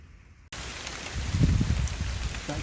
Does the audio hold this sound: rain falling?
yes